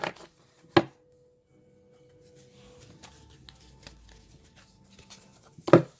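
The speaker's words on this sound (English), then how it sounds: "So we'll shuffle a little bit." Tarot cards are shuffled by hand in soft, sparse riffles, with two sharper snaps near the start and the end and quiet rustling in between.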